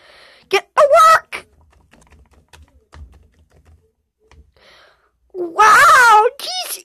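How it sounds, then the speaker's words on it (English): A computer keyboard is tapped in short, faint clusters of keystrokes between bursts of a voice speaking, the clicks soft and close in the quiet gaps. "I'm gonna go over here to my computer. Let's start typing."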